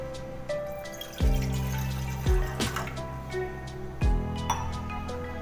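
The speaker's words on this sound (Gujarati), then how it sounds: "તેમાં આપણે જે ગ્લાસ પાણી લીધેલો છે તે ઉમેરીશું." A glass of water splashes into a pressure cooker in a kitchen while cooking dal, with a few short pouring bursts and drips, close and fairly quiet.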